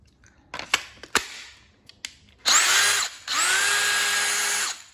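A Dewalt DCD796 cordless drill with a fresh battery fitted runs in two sustained bursts of high-pitched motor whine, each rising to full speed and holding, after several short clicks and handling knocks.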